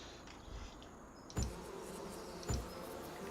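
Bees buzz around beehives on a farm in Farming Simulator, a faint, steady insect drone broken by two short soft thumps, with no voices.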